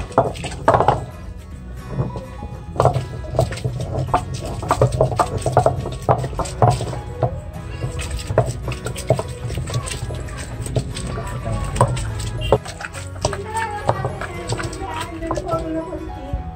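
Soaked paper being pounded and ground with the pestle of a traditional stone wet grinder (attukal) in a Trichy village. Repeated close, hollow knocks and scraping thuds keep a steady rhythm while people talk nearby.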